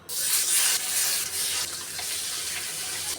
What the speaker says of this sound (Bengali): এখন আমি বাকি মাছগুলো দিয়ে দেব